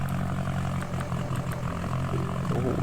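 Ford 7610 tractor in Farming Simulator 19 idles and rumbles with a deep steady engine and exhaust drone, loud and continuous with no talking.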